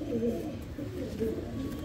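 Pigeons coo in soft, low repeated phrases close by, set against steady outdoor background noise, with no other clear sounds over them.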